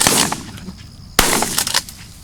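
Gunfire during a hunt in open country, two sharp loud shots roughly a second apart, the second followed by a few quicker pops, with no talk in between.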